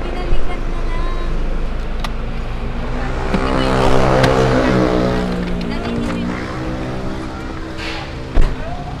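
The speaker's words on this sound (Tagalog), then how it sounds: "Ayun, na yun yung truck." A truck pulls up with a rumbling engine that swells and fades over several seconds, with voices talking nearby.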